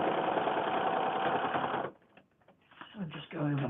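A sewing machine runs steadily, stitching back over a foundation paper-pieced quilt seam in a windmill or star block, then stops, and a person speaks briefly.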